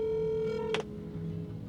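A phone dialing a call, a steady tonal beep that cuts off with a short burst, then a quieter lower tone carrying on, close and clear.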